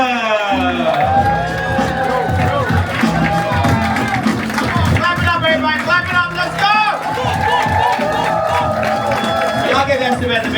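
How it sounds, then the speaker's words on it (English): A comedy-show crowd on a Carnival Sunrise cruise ship cheers, whoops and applauds as a comedian takes the stage, loud and sustained, with a voice talking over the noise and music running beneath. "That's the big round of applause"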